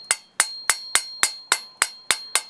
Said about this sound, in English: hit it with your hammer while you're trying to turn it. Just keep tapping on that